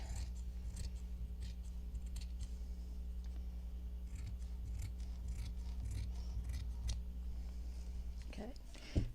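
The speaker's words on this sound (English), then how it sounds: "let's do the felt. Cut it the same size." Scissors cutting felt, a long series of close, quiet snipping and rasping strokes over a low steady hum.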